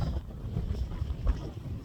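Wind gusting on an outdoor walk with a small child, heard as a low, rumbling buffet on the microphone, steady with a few stronger gusts and no talking.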